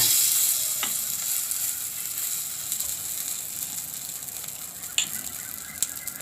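Gab gota batter spread onto a hot iron griddle, giving a steady close sizzle throughout with a couple of brief clicks near the end.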